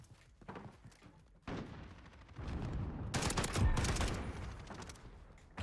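Rapid bursts of FAL rifle fire in a first-person shooter game, loud three-round volleys cracking in quick succession, intensifying into a dense barrage with heavy booming impacts near the end.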